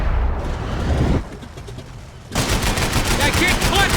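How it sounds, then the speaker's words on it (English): Rapid gunfire and bullets whizzing past during a Max Payne 3 firefight, loud dense bursts that ease briefly before a second intense volley of rapid cracking shots. "I can't concentrate with bullets whizzing past my head!"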